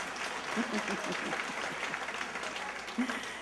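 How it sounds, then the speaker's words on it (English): Commencement crowd applauding at a university graduation ceremony, a steady wash of distant clapping filling the hall with light voices mixed in. "Graduates, that's right, we should give her a round of applause."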